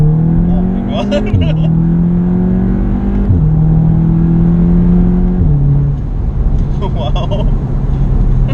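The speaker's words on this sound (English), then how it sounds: "once you hit second gear, like shift it to second, and then floor it" A Stage 2 tuned VW Golf R, about 400 hp, pulled hard at full throttle, its engine note climbing repeatedly through the gears with sharp drops at each shift, loud and close inside the car, with people talking over it.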